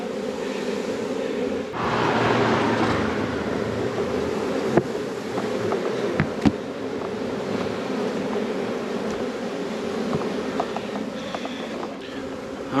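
Bees swarming around the opening of a hive outdoors on a ridge, a steady close droning hum that holds throughout, mixed with gusty wind rumble on the microphone and a few sharp clicks.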